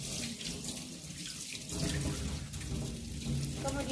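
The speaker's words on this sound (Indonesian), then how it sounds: "Kemudian bilaslah kedua tangan dengan air mengalir mulai dari ujung jari sampai ke siku." Running tap water splashing steadily into a sink as both hands are rinsed from fingertips to elbows during a clinical handwashing procedure, a continuous moderate hiss with small splashes.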